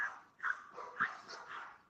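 A dog gives two or three short, muffled barks and yips, somewhat distant and under a hissy background.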